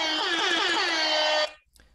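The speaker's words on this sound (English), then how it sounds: "this deserves a buzzer" A sustained electronic buzzer sound effect rings loud and steady for about a second and a half, then cuts off abruptly into near silence.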